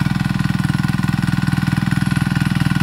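A mini tractor engine chugs steadily nearby, a fast, even thumping pulse that stays loud and constant throughout.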